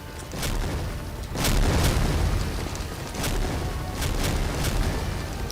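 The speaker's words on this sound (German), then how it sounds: "Ja, das ist unsere Artillerie." Artillery shells explode in a World War II strategy game set in the 1944 winter battle of the Ardennes, a continuous rumbling barrage of deep booms with sharper bursts scattered through it, loud and dense.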